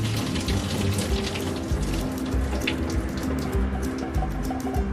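Water pours steadily out of a pot into a sink in a kitchen, a continuous splashing gush that keeps going.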